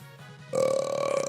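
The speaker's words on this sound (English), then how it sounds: "also burped into the microphone." A person burps straight into a microphone, one long, loud, rough belch that starts suddenly after a quiet moment and holds for most of a second.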